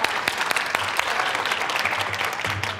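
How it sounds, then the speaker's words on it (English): An audience at a keynote presentation applauds a volunteer coming up on stage, dense continuous clapping heard close and steady with no talk over it. "Let's give him a round of applause."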